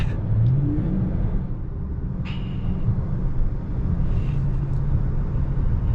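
A Dodge Charger Scat Pack rumbles and revs hard in a steady, loud low drone, with the tires apparently spinning under it, close and continuous with no talk.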